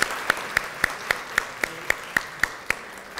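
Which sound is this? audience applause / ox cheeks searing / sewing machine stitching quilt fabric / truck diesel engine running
audience applause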